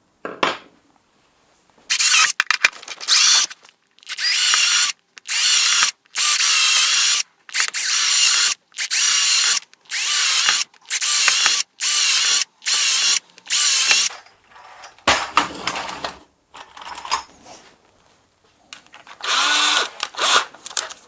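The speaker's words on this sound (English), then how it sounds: "So we'll just drill a 7mm hole" A power drill bores 7mm holes in repeated loud bursts, about a dozen whining spurts each a second or so long with short pauses between, then a few more irregular runs near the end.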